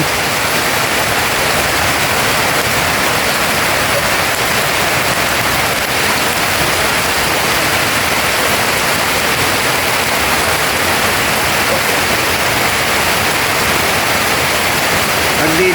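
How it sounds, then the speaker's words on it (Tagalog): Heavy rain pours down in a dense, steady roar, loud and constant throughout with no breaks. "Biglang umulan po."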